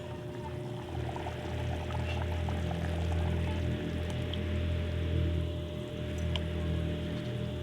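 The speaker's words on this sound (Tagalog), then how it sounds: "Lagay natin itong itlog." Beaten egg poured into a simmering sautéed sardine dish in a pan, a soft steady hiss and bubbling close by, fairly quiet with a constant low hum in the background.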